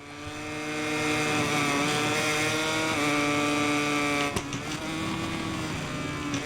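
A racing motorcycle engine in MotoGP 22 career mode screams at high, steady revs, holding a sustained whine that dips sharply with a brief gear change before climbing again, loud and continuous.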